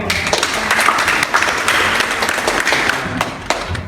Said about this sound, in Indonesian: Dan tepuk tangannya dulu dong.